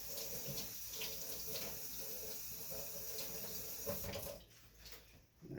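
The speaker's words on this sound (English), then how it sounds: "I'm gonna give those another quick rinse too as well." Hard-boiled eggs rinsed under a running kitchen tap, water splashing steadily and close for several seconds before cutting off near the end; no talk.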